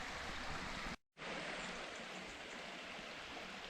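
A river rushes past an old mill in the Scottish countryside, a steady broadband roar of flowing water close by, broken briefly by a cut of silence about one second in.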